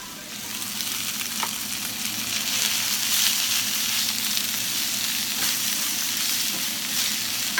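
Fajita vegetables sizzle steadily in hot oil in a pan, a continuous bright crackle that holds close and even throughout with no talking.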